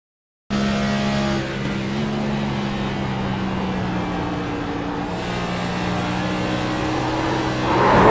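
Onboard a NASCAR Cup Series race car at Charlotte during the playoffs, a loud steady engine drone holds throughout, with a rising rush of noise near the end as the tires slide, and no voices.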